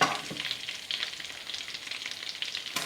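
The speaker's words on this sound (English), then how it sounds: "In the frying pan I've got the butter and about 4 tablespoons of the olive oil. So we're just going to fry these steaks over a low" Pork loin steaks frying over low to medium heat in a pan of butter and olive oil, giving a steady, close hiss and crackle throughout with no talking.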